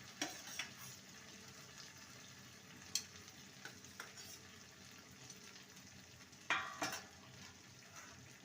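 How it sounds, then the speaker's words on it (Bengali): Cabbage with spices, capsicum and tomato is stir-fried in a pan: a soft, steady sizzle broken by several sharp scrapes and clinks of a spatula against the pan, heard close and alone. "ভালো করে মশলার সাথে কষিয়ে নেব"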